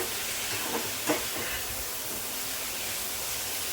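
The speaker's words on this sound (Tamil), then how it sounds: "நம்ம இப்போ எண்ணெயில் தான் வதக்குறோம்" Vegetables sauté in hot oil for paneer fried rice, a steady close sizzle and hiss with a couple of soft stirring scrapes near the start.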